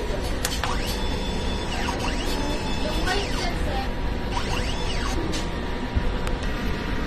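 A DTF printer runs a head-cleaning cycle: a steady mechanical hum with pump whine and rising and falling motor sweeps, heard close with no talking.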